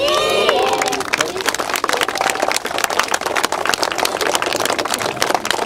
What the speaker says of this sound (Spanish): ¿Ustedes saben aplaudir?